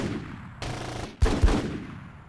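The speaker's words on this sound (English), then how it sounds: "Taking fire. Open fire!" Gunfire in the video game Full Spectrum Warrior: Ten Hammers, short rattling bursts of automatic fire with two heavier, louder bangs near the middle, close and echoing.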